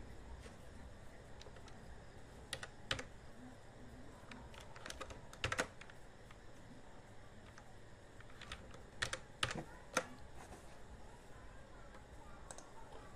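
A captcha is typed on a computer keyboard, with scattered soft key clicks and a few quick bursts of presses over faint background hum in a quiet room.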